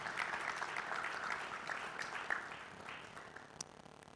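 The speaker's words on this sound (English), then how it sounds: "Another big round of applause" An audience applauds at a business forum investor roundtable, a dense wash of clapping that swells early and gradually fades, heard from some distance.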